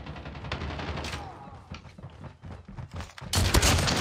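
Gunfire bursts from a gun in Call of Duty Mobile, loud close shots that break up into a dense, heavy volley near the end, with a little background game noise.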